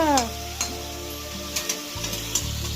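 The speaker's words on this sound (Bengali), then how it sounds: "রান্নায় ব্যস্ত বাবু, মাংস রান্না করছে ঠামার জন্য মার জন্য" Meat cooking in a pan, with steady sizzling throughout and a few soft stirring knocks, close and fairly loud.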